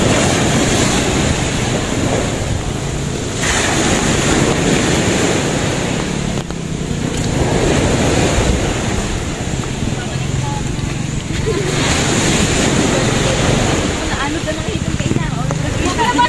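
Ocean waves surge and crash nearby, a steady roar with gusts of wind buffeting the microphone and voices talking over it.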